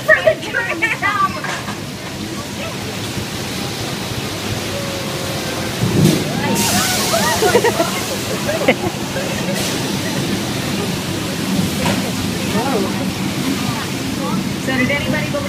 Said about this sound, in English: So the rain is the result of sprinklers, and the flood is the result of thousands of gallons of water held up in a special tank at the top of the hill.